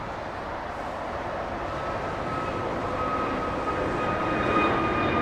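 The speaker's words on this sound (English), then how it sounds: "The Japanese Dreamliner." A Japanese airline's Boeing 787 Dreamliner jet at LAX gives off a steady engine roar with a faint high whine, swelling slightly louder toward the end, with no talking over it.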